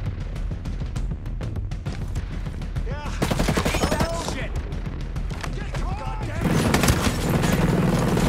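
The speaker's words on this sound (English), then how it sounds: "Oh my god, that really is a Gatling gun" A Gatling gun in Ghost Recon Breakpoint fires long, rapid, loud bursts with dense overlapping shots that swell toward the end, while a player talks excitedly over the gunfire.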